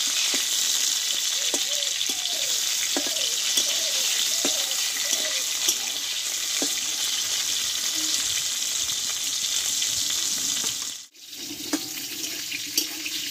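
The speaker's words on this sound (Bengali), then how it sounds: "দেখো বন্ধুরা, পটলটা কিন্তু অর্ধেকটা কষা হয়ে গেছে।" Pointed gourd frying in oil with turmeric, a steady bright sizzle and hiss running throughout with a few soft clinks from the pan, close up, briefly dipping near the end.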